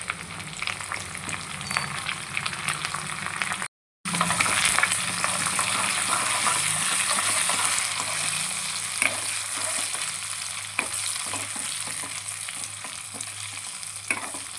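Curry leaves, asafoetida and crushed garlic fry in hot oil for palak dal, giving a loud close crackling sizzle that settles into a steady hiss, broken briefly by a short dropout, with no talk.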